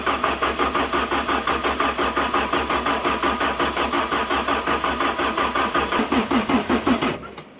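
A race car engine cranks over and over on a cold day without catching, its rapid rhythmic starter pulses running steadily for about seven seconds before cutting off abruptly.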